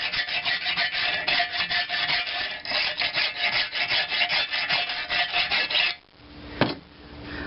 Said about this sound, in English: Some places it files pretty good